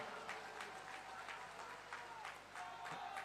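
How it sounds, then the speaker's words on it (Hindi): A rally crowd applauds continuously, a dense far-off patter of many clapping hands at moderate level, with no speech over it. "जोर से ताली बजाइए जरा"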